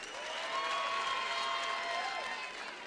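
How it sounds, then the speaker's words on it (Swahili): Moderate applause and some crowd noise from students at a Nairobi county security forum as a speaker leaves, steady and fairly distant, with a faint tonal sound running through it. "Tumpatie makofi akitoka"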